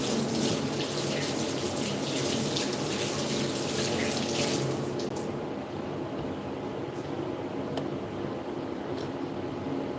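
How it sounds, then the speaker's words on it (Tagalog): A tap runs steadily while hands are washed under it to clear off sticky residue from handling bacon, a continuous close water rush that eases slightly halfway through, with no talking. "Hugas muna ako ng kamay."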